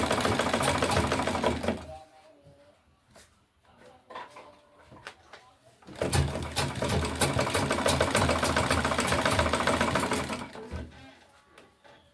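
A sewing machine stitches a tote bag with adjustable straps, a loud, dense mechanical whir that runs in two long bursts separated by a quieter pause, heard close with no talking.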